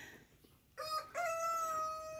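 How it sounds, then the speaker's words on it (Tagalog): A rooster crows loudly and close among a mix of chicken breeds at an outdoor farm park, preceded by a brief cluck-like call, with no talk over it. "So ngayon ito mga iba't ibang klaseng manok."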